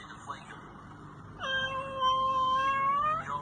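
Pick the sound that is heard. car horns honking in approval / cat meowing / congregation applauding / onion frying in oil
cat meowing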